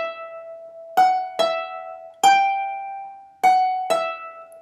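Celtic harp plucking a short melodic phrase from the Arran Boat Song, about five clear ringing notes with long sustain, played alone at a moderate, unhurried pace.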